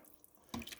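A brief gush of water from a kitchen tap while making chili, a short splashy burst after a near-silent moment, with no one speaking.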